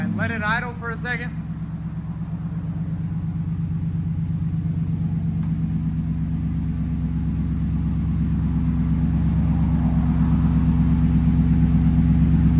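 A RAM truck's 6.4L V8 idles with a very loud exhaust, a deep, steady, throbbing rumble that runs throughout, close and heavy, after a brief voice at the start.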